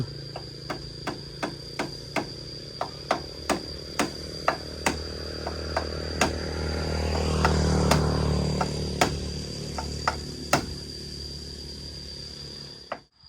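Sharp hammer strikes on wood, a dozen-plus evenly paced blows in a steady rhythm, loud and close, with a low machine hum swelling in the middle.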